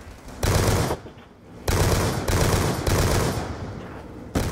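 Weapon fire in Call of Duty Black Ops 2 Zombies comes close and loud in several sustained bursts separated by short pauses, with a final shot at the end.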